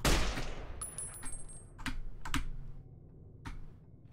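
Gunfire in the video game Fallout New Vegas, several sharp isolated shots spaced across a few seconds, fairly close and loud over a low background hum, with no talking.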